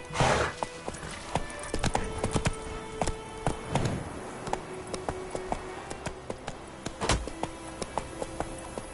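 Horse hooves clatter in The Witcher video game, a quick run of close, crisp clip-clop strikes in an uneven galloping rhythm, with a brief snort or whinny near the start.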